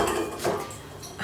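An unsecured metal bowl on a planetary stand mixer clatters and rattles loudly and continuously in a kitchen during doughnut making, with no talk.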